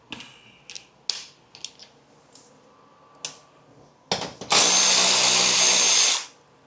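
A power drill drives a bolt while swapping a 10 mm fastener for a Torx on a BMW E60, with a few light clicks and taps first, then a loud steady whir lasting about two seconds before stopping.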